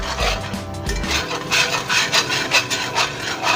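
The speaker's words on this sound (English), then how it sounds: "Keep whisking, keep whisking, keep whisking." A whisk scraping steadily through sausage gravy in a cast iron skillet, rhythmic rasping strokes close up, with no talking.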